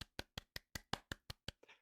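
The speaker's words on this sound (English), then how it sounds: "I'm gonna give that one a golf clap." A single person gives a slow, polite golf clap: about ten soft, evenly spaced claps, close by and alone.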